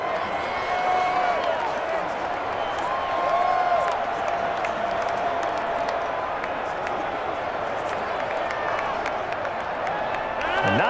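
Stadium crowd noise from the Madden NFL 21 video game during a Green Bay Packers vs Chicago Bears match, a steady dense roar with murmuring and scattered cheers under a commentator's voice.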